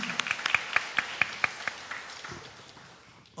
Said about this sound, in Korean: 영광의 박수를 하나님께 올리겠습니다.